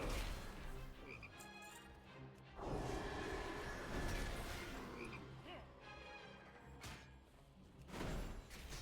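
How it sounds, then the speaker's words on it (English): Frog croaks from a World of Warcraft game frog, repeated throaty calls over ambient game music and background effects, moderately loud and close. "The frog will not be silenced."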